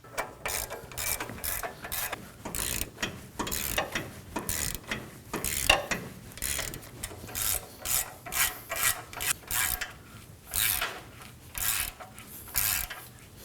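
A hand ratchet snugging the wheel hub bolts on a 2017-2024 Nissan Armada during a front wheel bearing and hub replacement, with a long run of quick rhythmic clicking strokes, close and clear.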